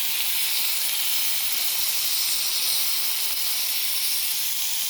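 Food fries in a pan with a dense, even, close hiss that holds steady throughout, with no voices.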